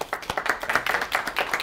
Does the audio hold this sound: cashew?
no